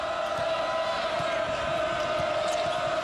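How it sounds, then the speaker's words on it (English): Crowd noise fills a basketball arena at a Pitt Panthers home game against Villanova, a steady dense roar with sneaker squeaks and ball bounces underneath and a commentator's voice over it. "And listen to this crowd."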